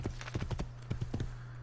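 Horse hooves clop in the Assassin's Creed 2 video game, a few close, irregular knocks in small clusters over a low steady hum.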